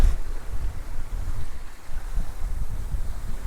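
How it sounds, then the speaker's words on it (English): Strong wind buffets a sailboat's microphone near a bridge, a steady low roar of gusts and rumble with faint water wash throughout, no voices. "You don't feel that much, but there is a lot of wind."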